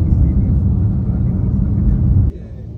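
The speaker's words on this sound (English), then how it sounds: "So the traffic in Penang feels like Bangalore" Road traffic in Penang rumbles continuously with deep, heavy engine drone from passing vehicles, loud and close throughout, then drops slightly toward the end.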